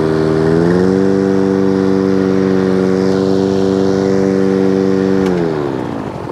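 A Hayter 56 lawnmower engine idles steadily and loudly, a constant close-up drone with a slight dip in pitch near the start and a fade at the end.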